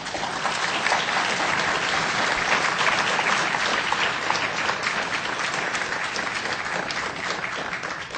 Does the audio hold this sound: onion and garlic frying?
no